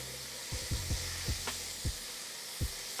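Chopped green and yellow onions sizzle in a hot oiled pan, a constant close hiss broken by several soft low thumps and stirring knocks spaced through the clip.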